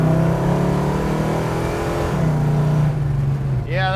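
A 1969 Plymouth Road Runner with a Hemi engine runs at about quarter throttle, a steady, loud, low rumble that drops slightly in pitch, heard from inside the car with a voice present.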